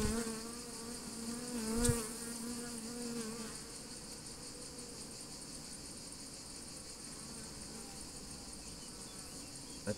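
Honey bees buzz steadily around full beehives in an Italian apiary, a continuous droning hum with a louder pass near the start and no talk.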